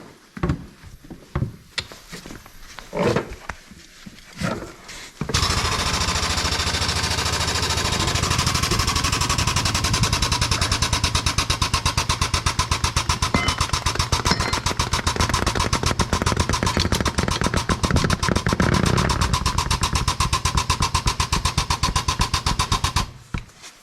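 An old Gator utility vehicle's engine runs loud and steady for most of the clip, with a rough, rattling drone that starts abruptly after a few seconds of scattered knocks and clatter.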